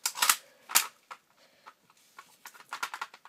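A full-metal magazine slides and clicks into a Taurus PT92 CO2 airsoft pistol, a few sharp close metallic clacks and snaps spread over a few seconds, with quieter handling rattles between, no talking.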